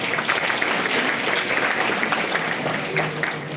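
An audience at an International Women's Day celebration at an institution gives a round of applause: dense, loud, even clapping from many people lasting the whole stretch.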